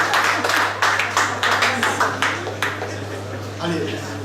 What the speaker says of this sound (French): On va l'applaudir, ça va la faire venir.